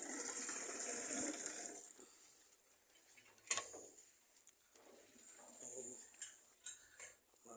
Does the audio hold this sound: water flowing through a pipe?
yes